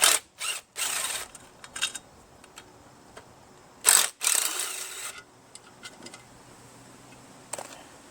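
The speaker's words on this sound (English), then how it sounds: "I'm going to take the muffler off." Tool clicks and ratcheting while the muffler is taken off a Ryobi 31cc 410R gas rototiller cultivator, in short bursts of a socket wrench and loose metal parts separated by quiet pauses.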